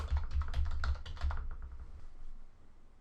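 Fast typing on a computer keyboard while a subject line is entered: a quick run of close, crisp key clicks for about a second and a half, then tapering off into quiet room tone, with no talking.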